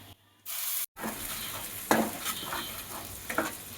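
Onion and tomato paste dropped into hot spiced oil in a pan, a sudden loud hiss after a brief pause, then a close, steady sizzle with occasional scraping stirs, no voices.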